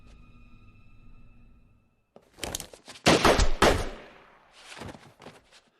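Gunfire from the 2010 film The American, a quick cluster of loud, sharp shots with echoing tails following a quiet tonal lull, close and forceful with no speech.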